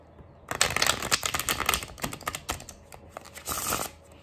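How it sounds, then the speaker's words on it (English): Someone shuffles a new tarot deck by hand, a close, crisp riffle of rapid card flicks in several bursts with short pauses between them, and no one talks. "just to show you how this deck shuffles"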